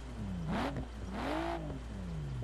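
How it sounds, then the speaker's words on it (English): A Nissan R33 Skyline in Forza Horizon 4 blips its engine twice in quick rising-and-falling revs, then the exhaust settles into a descending drone with afterburn crackle, loud and near, without talk. "Listen to that afterburn."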